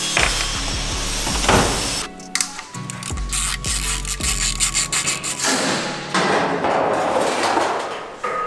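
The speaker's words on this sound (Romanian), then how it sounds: "acum desfacem returul de la turbo de ulei, care are două șuruburi de două culori" Bolts on the turbo oil return line of a Golf 5 GTI being undone with a ratchet wrench, giving repeated close metallic clicks and knocks with clattering tool contact and no talk.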